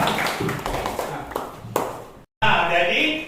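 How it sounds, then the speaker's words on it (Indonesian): Applause in a classroom as a group of students is clapped for, a dense patter of many hands that breaks off briefly, then resumes brighter and louder. "tepuk tangan untuk kelompok 3"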